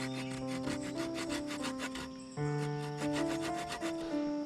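A knife or saw rasps an angled notch into a wooden survival bow in repeated back-and-forth strokes, with tonal ringing and a brief pause midway.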